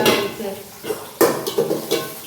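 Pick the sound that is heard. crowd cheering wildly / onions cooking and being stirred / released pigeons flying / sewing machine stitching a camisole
onions cooking and being stirred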